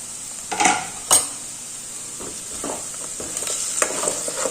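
Potatoes and onions frying in a covered pan, with a steady soft sizzle throughout and a couple of sharp clinks of a utensil against the pan near the start.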